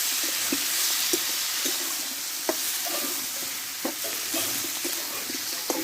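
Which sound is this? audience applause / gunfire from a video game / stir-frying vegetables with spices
stir-frying vegetables with spices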